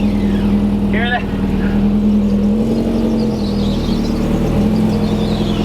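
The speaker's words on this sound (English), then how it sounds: "That's a little tire squeal." A lowered car backing out of a garage gives a brief, high tire squeal early on, riding over a steady, loud engine drone.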